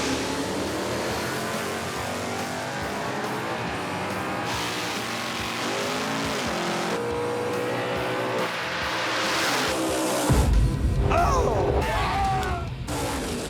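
Drag race featuring a Mustang powered by a small-block Chevrolet V8, with a loud engine roar rising and shifting in pitch, then a sharp burst of louder, rougher noise near the end as the car launches or passes close; talk overlaps in places.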